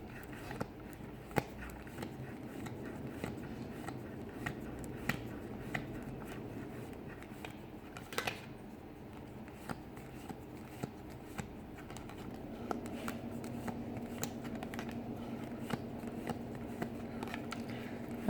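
Playing cards shuffled and flicked through by hand, a long run of soft, quick ticking riffles with occasional sharper snaps, close and quiet with faint background noise throughout.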